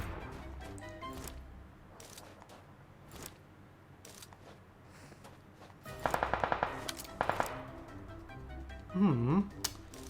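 Automatic weapon fire in PUBG Mobile, a 1-versus-4 battle royale match, with short bursts of rapid shots cracking out mid-clip over a low game ambience while a player talks.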